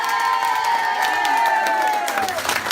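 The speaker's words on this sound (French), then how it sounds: "La couronne arrive sous les applaudissements de tout le monde" Crowd at a retirement-home pageant electing a miss and grandpa cheering and clapping as a crown arrives, a loud busy mix of applause, whoops and excited voices, with a sustained high vocal tone sliding downward across the clip.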